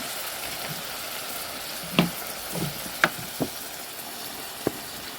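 Water added to frying ginger-garlic masala in a pan for a prawn dish, giving a soft, steady sizzle broken by a few sharp clinks and stirs. The sound is close and fairly quiet, and no one speaks.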